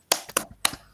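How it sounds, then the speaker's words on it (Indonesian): Schoolchildren in a classroom do a short rhythmic cheer clap, three sharp, crisp claps in quick succession within a second, close and distinct against near silence. "kita tepuk semangat dulu"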